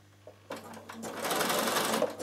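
Bernina 7 series sewing machine starts up after a couple of soft clicks and runs a steady zigzag stitch, a close, rapid whirring buzz that builds slightly in speed over a couple of seconds.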